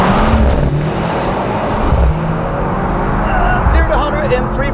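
A Mercedes-AMG C63 S E-Performance estate launches hard from a standstill, a loud, continuous engine and road roar that holds strong throughout and climbs slightly near the end, with a voice talking over it.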